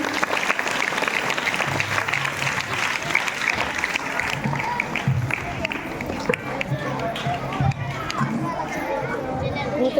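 Audience applause at a Telugu stage show in Dharur, a dense, continuous wash of clapping from a large crowd with scattered cheers and voices mixed in, loud and sustained throughout.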